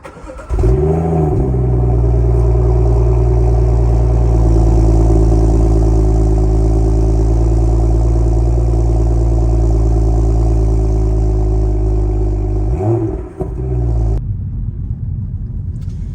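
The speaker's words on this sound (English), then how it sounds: "that cold start from the M55. So let's hear it." Cold start of a BMW F32 435i: the starter catches, the engine flares loudly to a high rev, then settles into a steady, elevated idle with a deep rumble. It blips once more near the end before a quieter hum, with no talk.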